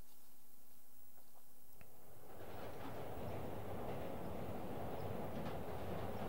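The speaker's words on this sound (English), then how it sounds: "one of the trophies is to ride the subway 5 times" Subway train ride in a Spider-Man video game: after a quiet start with a brief click, a continuous rolling rail rumble with rattling carriage noise rises and holds steady, moderately loud and close.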